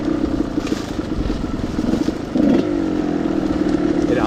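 A Gas Gas 300 motorcycle, roughly a 2000 model, idles with a steady, even engine note and a brief louder pulse partway through.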